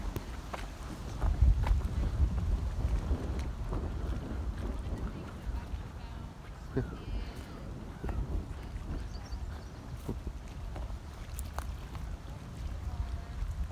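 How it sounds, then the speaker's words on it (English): Heavy wind buffets the microphone with a constant low roar and rumble, loud and persistent throughout. "yes, it's very windy. I'll try to block the microphone with my sleeve here"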